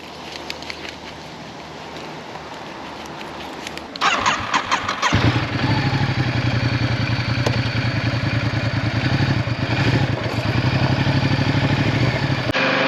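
A Ducati XDiavel motorcycle engine turns over and catches with a sharp burst about four seconds in, then settles into a steady, loud, throbbing idle up close that carries on to the end.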